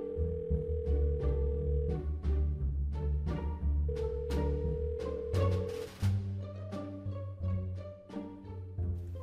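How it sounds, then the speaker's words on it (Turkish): A melodic ringback tune plays steadily while a phone call waits to be answered, a sequence of sustained electronic notes changing pitch over about nine seconds with no one speaking. "Çalıyor bakalım."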